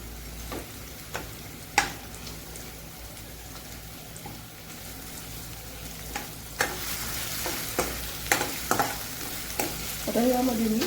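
Bay leaf and cloves frying in hot oil for a dhaba-style dal tadka, giving a steady low sizzle with scattered sharp crackles and pops and occasional spoon taps on the pan, close and moderately loud, no talking.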